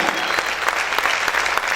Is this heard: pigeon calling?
no